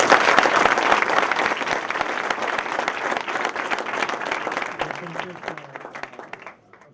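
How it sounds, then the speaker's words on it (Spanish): Sustained applause from a seated meetup audience thanking a panel of speakers, dense clapping that holds steady and then thins out and fades over the last seconds, with some voices faintly underneath. "Vamos a darles un aplauso a los panelistas."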